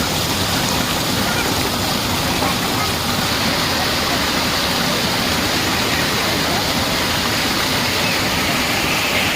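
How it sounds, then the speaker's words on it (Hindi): Strong, fast-flowing water at a temple pond rushes in a loud, continuous broadband roar that stays steady throughout, close by and with no pauses. "और पानी का बहाव देखो कितना है, बहुत तेज़ बहाव था।"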